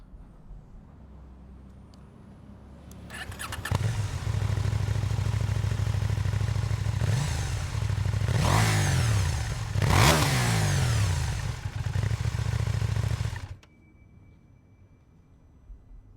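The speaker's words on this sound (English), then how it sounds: "time for the sound check. 2019 KTM Duke 790" 2019 KTM Duke 790 motorcycle engine revved for a sound check: it starts, idles loudly, then surges through several sharp rev blips before cutting off to quiet.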